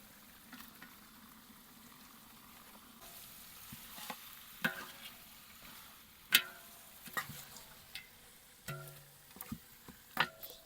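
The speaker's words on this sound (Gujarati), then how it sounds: "હવે આપણે બકરાનું શાક નાખી દઈશું અંદર." Goat mutton pieces fry in a simmering village-style masala gravy with a steady low sizzle, while a spoon stirs and scrapes the pot in irregular, sharp clicks and knocks; no one speaks.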